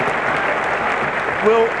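A Gabba crowd at an AFL match between Brisbane and St Kilda applauds at the half-time siren, a steady wash of distant clapping and cheering with no break.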